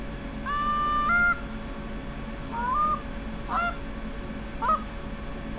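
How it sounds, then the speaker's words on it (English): Geese in the hunting video game The Hunter: Call of the Wild give four separate honks, spaced a second or so apart and moderately loud over a steady low ambient hum. "Can I hear geese?"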